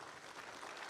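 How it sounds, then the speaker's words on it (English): Dense, steady applause from an audience at a pastors' luncheon, a continuous wash of many hands clapping close and loud for the whole short moment. "Let's give him a round of applause, please."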